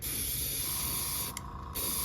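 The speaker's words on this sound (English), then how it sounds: "I'm spraying real heavy on it." Spray paint hissing onto a hand-carved wooden fishing lure, a loud continuous close spray with one brief pause before resuming.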